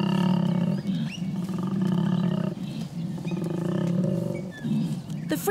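A koala bellows in a deep, rasping, snoring-like drone of continuous inhale and exhale cycles, loud and close, with a few pulsing breaks.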